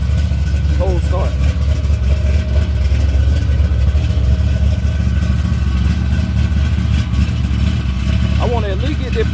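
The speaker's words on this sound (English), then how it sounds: "Y'all see how this thing crank up and stay running, man, when it warm?" A Chevy box car with a transbrake rides on 26-inch wheels, its engine running steadily after a cold start with a deep, continuous idle rumble, while people talk loudly nearby over the noise.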